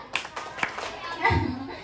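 A group of schoolchildren clap in a brief, slightly ragged burst of claps, with children's voices mixed in, ending in a louder swell of noise.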